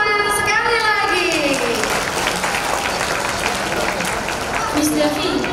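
Audience at a kindergarten graduation ceremony in Batam applauds after a speech, a sustained crowd of clapping with a voice speaking over it at the start.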